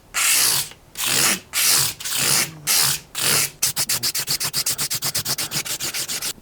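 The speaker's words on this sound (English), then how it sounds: "as the sandpaper runs over each fret, it's kind of bumping along" Sandpaper rubbed over guitar frets during fret dressing, first in several long, loud strokes, then a fast run of short, evenly spaced rasps as the paper bumps across each fret, close and with no talking.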